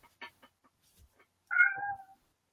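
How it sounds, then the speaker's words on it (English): A single drawn-out cat meow rises clearly near the end, preceded by faint scattered clicks and knocks in an otherwise quiet indoor room. "and I hear some meowing"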